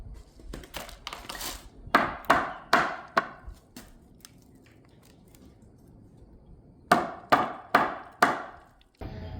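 Wooden wedges are hammered tight during porch and door framing work on an 1892 building, heard as two close bursts of rapid, sharp knocks, about five blows each, separated by a quiet pause.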